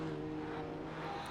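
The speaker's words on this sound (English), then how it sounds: "you can hear the RX-7's rotary engine Doritoing away in the background" Mazda RX-7 rotary engine from a racing video game, a steady droning engine tone holding one pitch under faint background noise, quiet and continuous throughout without speech.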